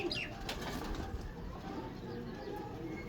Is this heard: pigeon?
yes